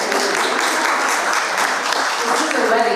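Audience applause in an event hall, a dense steady wash of many hands clapping at constant loudness throughout, fairly close and sustained with no gaps.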